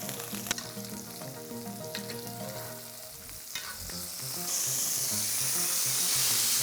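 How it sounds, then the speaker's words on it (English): A dry-aged pork chop sizzles in a hot pan while it is basted with garlic, a steady loud frying hiss with brief stirring clatter that swells louder toward the end. "3/4 of the way through, we're gonna start basting now."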